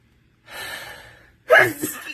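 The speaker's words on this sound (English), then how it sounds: "Oh, I'm gonna sneeze." A long, drawn-in breath is followed by one loud, close sneeze.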